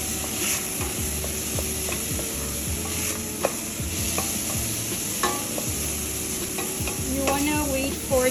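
Onions sizzle in a frying pan with a soft, continuous crackle, broken up by frequent scraping and clicking from a utensil stirring them, fairly close and fairly quiet.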